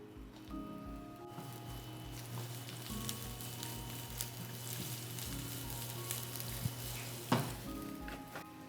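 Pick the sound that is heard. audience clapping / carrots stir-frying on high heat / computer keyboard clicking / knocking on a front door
carrots stir-frying on high heat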